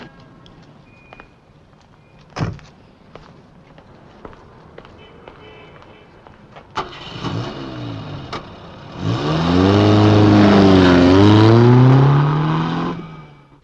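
A car engine starts and revs, then pulls away with a rising, loud roar that swells and holds, preceded by scattered clicks and faint movement sounds in a 1960s television drama scene.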